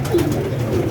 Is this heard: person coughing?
no